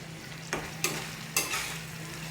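Chicken with masala paste being stirred in a frying pan, a few distinct scraping strokes over a steady sizzle, close and clear, no talking.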